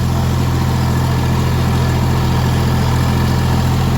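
A DTZ tractor engine idling close by, a loud, steady low rumble with an even throbbing hum and no breaks.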